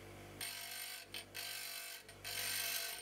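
A bench grinder sharpens the relief angle on an HSS drill bit, giving three loud, close bursts of hissing, rasping grinding over the steady whine of the spinning wheel, with brief pauses between passes.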